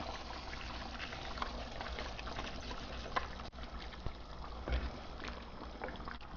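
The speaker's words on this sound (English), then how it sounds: "the biryani water is boiling" A pot of water at a rolling boil for Southern Indian chicken biryani, with a steady close bubbling and hissing that holds even throughout, plus a few faint knocks and clinks.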